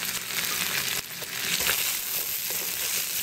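Blue crab stir-frying in a hot pan, a steady close sizzle and fry hiss with stirring scrapes running throughout, alone without voices.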